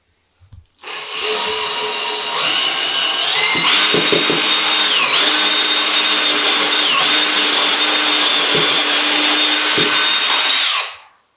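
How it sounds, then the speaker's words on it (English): A power drill bores holes while a key rack is being built, spinning up after a short click and whining loud and close for about ten seconds, with its pitch wavering under load before it winds down. "I'm going to keep drilling"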